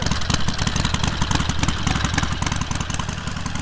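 A Harley-Davidson Forty-Eight motorcycle engine idles steadily close by, a rough, continuous throbbing rumble with rapid pulsing and no voices.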